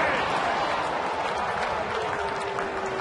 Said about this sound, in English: With the applause for the effort by Neil Walker